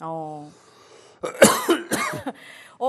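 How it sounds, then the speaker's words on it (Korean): Coughing at a table during a Korean stock-trading talk show set at a pub-style stall with pajeon, a brief voice first, then a few harsh, close coughing bursts. "같이 마시는 음료가 없다 보니까 기침이 좀 나옵니다"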